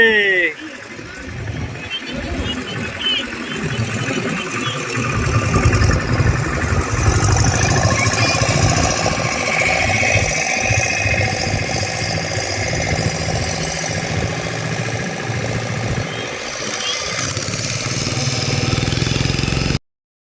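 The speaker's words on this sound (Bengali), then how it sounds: "ওইখানে অনেকই বটবটি নৌকা চারিদিকে ছিল।" Motorboat engines on Chilika Lake, a continuous mid-pitched engine drone and knock running throughout under a person talking.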